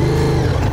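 A motorcycle engine held at a steady, loud rev under a little throttle, a continuous close mid-pitched drone with no pauses.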